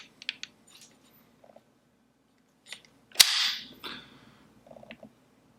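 A Sig MPX trigger with no take-up and roughly a 4-pound pull is pressed and released, giving a few sharp mechanical clicks, then a louder snapping break followed by a quieter reset click, all close up and alone.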